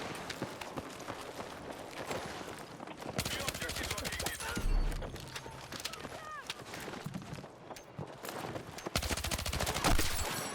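Suppressed gunfire in Battlefield 6, rapid muffled bursts of shots in several volleys amid other in-game combat noise, with someone talking over the action.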